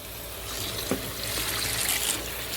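Cucumbers for dill pickles being rinsed in a bowl of water, soft continuous splashing and trickling with a couple of brief knocks, fairly quiet and without talk.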